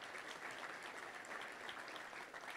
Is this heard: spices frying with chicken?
no